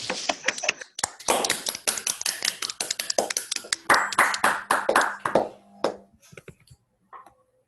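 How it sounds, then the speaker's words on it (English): Scattered, uneven hand claps from a small online audience just after unmuting, some near and crisp, others faint, overlapping irregularly before thinning out to a few last taps. "I suggest that we take 2 or 3 seconds to unmute everybody. And then we give Narayan a round of applause."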